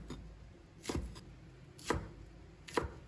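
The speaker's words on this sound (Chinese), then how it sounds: "然后切成菱形块" A kitchen knife chops chili peppers into diamond-shaped pieces on a cutting board, with three distinct, evenly spaced cuts landing about a second apart, near and moderately loud.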